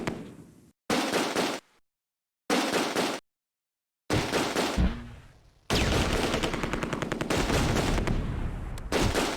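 A .30 cal machine gun fires in the Close Combat video game, loud bursts broken by short gaps, then a longer sustained stretch of rapid automatic fire with dense overlapping battle noise.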